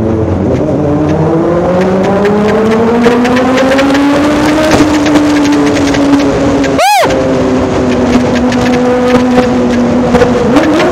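Kawasaki ZX-4RR motorcycle engine echoing inside a tunnel, a loud high-pitched inline-four whine rising steadily as it revs, with a sharp pitch swoop partway through and a reverberant close-up drone throughout.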